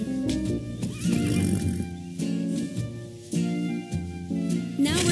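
A horse in the video game Horse Club Adventures 2 neighs and whinnies over steady, tuneful game music, the calls standing out clearly against the background score.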